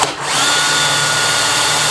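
A loud power drill whirs steadily after a brief spin-up, its motor holding a constant high-pitched whine throughout.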